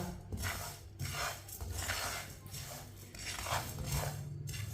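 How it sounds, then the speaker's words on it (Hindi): A spoon stirs spices roasting in a pan over medium heat for a winter mixed pickle, giving steady, repeated scraping and rustling strokes close up with no talking. "मीडियम आंच पर इसे 3-4 मिनट के लिए भूनना है, चम्मच चलाते हुए"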